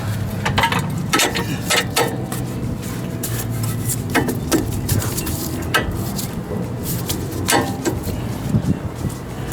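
A ratchet tightening a bolt while a coilover goes onto a drift Miata, with repeated bursts of quick metallic clicking spread across the clip and some rubbing and handling noise between them.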